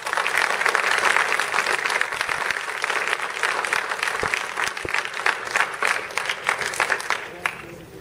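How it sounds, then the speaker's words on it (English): A youth council audience in Toronto gives a guest speaker, a city councillor, a loud, sustained round of applause: dense crowd clapping throughout that gradually breaks into more separate, distinct claps toward the end. "So round of applause for Shelley Carroll."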